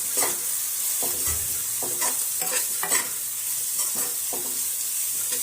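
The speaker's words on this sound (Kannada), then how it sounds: "ಈಗ ಇದನ್ನ ಎಲ್ಲ ಮಿಕ್ಸ್ ಮಾಡ್ತಾನೆ ನೋಡ್ರಿ." Curry with coriander is stirred in a frying pan, giving repeated scraping strokes at a regular rhythm over a constant sizzle. The sound is close and alone, with no talk.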